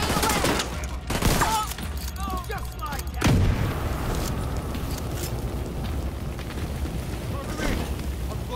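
A grenade blast and gunfire in a video game battle: heavy bursts of rifle and artillery-like fire crackle throughout, with a sharp boom near the middle, loud and close, while voices talk over the combat.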